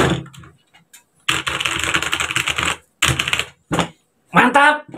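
A MageGee mechanical gaming keyboard with 104 keys clacking in dense bursts of rapid keystrokes, loud and close, broken by short silences.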